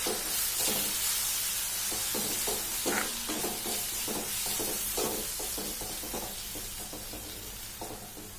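Spices, chole masala and a generous amount of fresh coriander being stirred in a pan over low heat, with a steady run of spoon scrapes against a soft, continuous sizzle, close and unaccompanied by voices.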